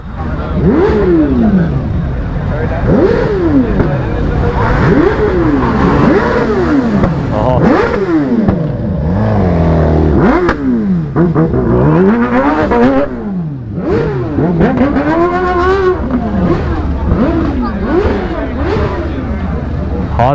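Motorcycles rev hard and repeatedly at a crowded motorcycle festival in Adana, engines rising and falling in loud overlapping sweeps for the whole stretch, with voices in the crowd mixed underneath.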